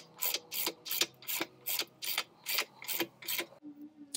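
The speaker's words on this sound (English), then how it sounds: "you're going to use the number 16 socket wrench to screw it in" A socket wrench ratchets in quick repeated bursts while tightening small bolts on a bike rack bracket, about ten crisp clicking strokes in a steady rhythm, close and clear, ending with a short low tone.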